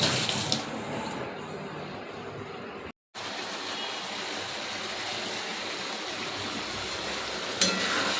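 A bowl is washed under a running kitchen tap, a steady close hiss of flowing water that cuts out for a moment and then resumes.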